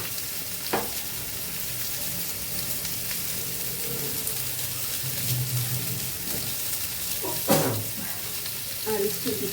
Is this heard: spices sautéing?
yes